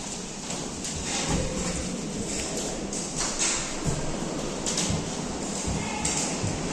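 Hail pounds a window during a violent summer hailstorm with strong wind in Kunów, Poland, a dense, steady rattling patter that runs unbroken, close and fairly loud, with no voices over it.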